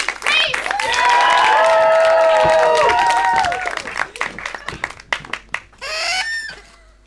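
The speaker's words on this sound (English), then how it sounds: "Let's get those hands a clapping. And get ready to whoop and cheer" Loud whooping and cheering from a live improv comedy audience with scattered clapping, tapering into uneven claps and a further burst of cheers.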